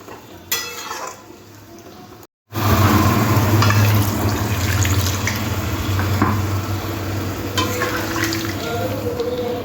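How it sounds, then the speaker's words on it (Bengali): Water poured into a pan of cauliflower and spice mix for doi fulkopi, a steady loud rushing sizzle and bubbling after a short gap, continuing strongly to the end. "ফুলকপিটা মশলার সাথে মেশাবার পরে এবারে জল দিয়ে দিতে হবে"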